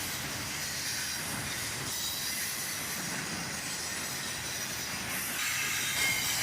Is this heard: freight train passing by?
yes